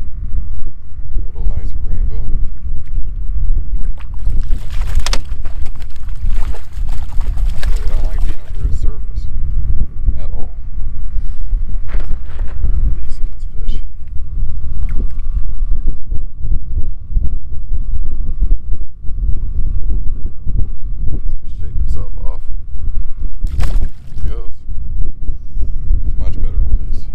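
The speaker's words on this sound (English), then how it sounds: "We got about 10 mile an hour wind and it's pushing us around a little bit." Steady wind of about ten miles an hour buffets the microphone on a small boat on open water during a fishing trip, a loud continuous rumble with gusty bursts, and voices talk over it.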